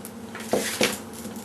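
A popsicle stick stirs a chunky, batter-like Aqua Resin mix, giving two brief scraping clicks close by against a quiet background, with no talk.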